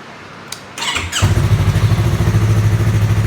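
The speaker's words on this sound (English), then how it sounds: "This is cold start on the R3." Yamaha R3 motorcycle cold start: a brief starter whir and squeal, then the engine catches and settles into a loud, close, steady pulsing idle.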